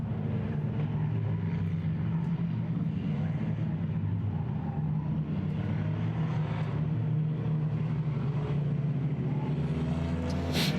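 Race cars lap Claremont Motorsports Park in a field of eleven, a steady droning engine roar at a distance with a constant low hum and slight swells as cars pass, no talk over it.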